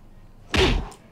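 A single solid thunk of a door shutting in the 1989 film National Lampoon's Christmas Vacation, short and fairly loud after near silence.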